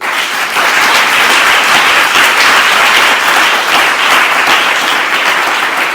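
A church congregation applauds loudly and steadily, a dense continuous wash of clapping heard close throughout with no pauses.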